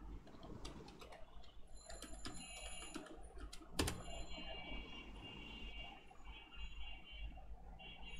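Password typed on a computer keyboard during a Git upload, with soft, quick key taps at close range and a sharper click midway over a faint quiet background.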